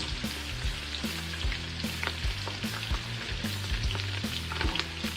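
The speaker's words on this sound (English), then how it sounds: "I'm gonna saute the neck and gizzard with all these yummy vegetables" Turkey neck and gizzard sautéing in hot butter with chopped vegetables, a steady close sizzle with scattered crackles and pops running throughout, no voices.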